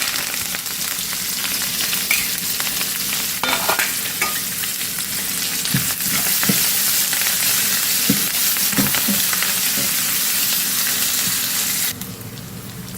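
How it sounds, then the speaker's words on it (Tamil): Mustard seeds, onion and curry leaves fry in oil with a continuous close sizzle, broken by scattered pops and spoon scrapes against the pan, with no talking. "கடுகுலாம் நல்லா பொறிஞ்சிருச்சு ஒரு வெங்காயமும் கருவேப்பிலை"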